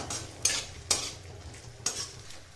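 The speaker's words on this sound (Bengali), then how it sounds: "নারকেলটাকে আমি একটু ভেজে নেব" Chopped coconut fries in ghee with a soft steady sizzle, punctuated by a few sharp scrapes of a utensil against the pan, close and without any talking.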